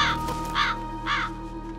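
A crow caws three times in a slow, even rhythm, clear and moderately close over a steady background hum, with no talking.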